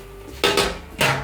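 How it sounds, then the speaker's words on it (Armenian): A metal oven baking tray and silicone mat get handled in a home kitchen, with two sharp clattering metallic knocks close by against a quiet background. "Գործ ենք դրում ջեռոցի տապակը և սիլիկոնե"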